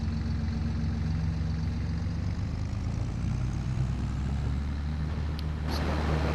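A tractor engine in Farming Simulator 22 drones steadily with a low, even rumble throughout, with a brief brighter burst near the end and no talking over it.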